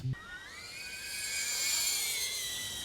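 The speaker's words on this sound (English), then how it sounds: "That is a loud drone" DJI Avata FPV drone carrying a GoPro on top, flying with a loud, steady high-pitched propeller whine that rises slightly in pitch and fills the whole stretch, with no talking.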